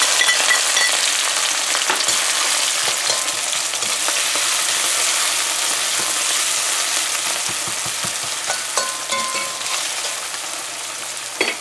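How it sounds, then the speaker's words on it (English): Scallions and onions fry in hot oil in a karahi, giving a loud, steady sizzle with occasional stirring scrapes and pops, heard close with no voices. "we added some oil there and it's hot already, so we're going to add our scallions and onions and so on there"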